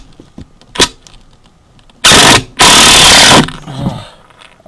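A power drill drives screws into cedar window trim, with two loud, steady bursts of whirring, the second longer than the first, amid quiet handling clicks and taps.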